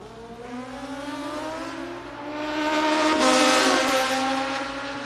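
Two Kawasaki racing motorcycles with identical bodywork at a drag race: steady high engine whine that swells louder near the middle and holds, no voices.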